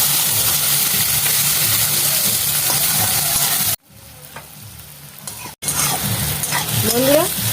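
Onions fry and are stirred in a pan for a mutton dish, a loud close sizzle with scraping strokes that drops off sharply partway through and then returns, with no talking.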